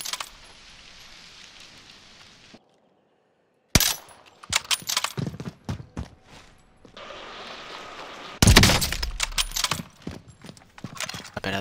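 Sharp bursts of 3-Line Rifle fire in Call of Duty: Warzone, several loud cracks clustered after a quiet gap, mixed with game effects and clattering impacts.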